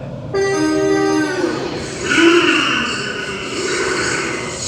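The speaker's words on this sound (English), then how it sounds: "a special announcement was played for the train's arrival." A musical chime tone for a special train-arrival announcement sounds over Prague station hum, a bright tonal note followed by a lower second note, then a diffuse rushing noise and murmur.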